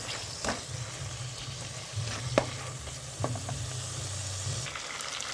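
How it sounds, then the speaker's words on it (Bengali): Chicken pieces coated in ginger garlic paste frying in a pan, a steady soft sizzle with a few scraping stirs of a utensil, close and fairly quiet. "আদা রসুনটাকে সুন্দর করে চিকেনের মধ্যে মাখিয়ে ভেজে নিতে হবে"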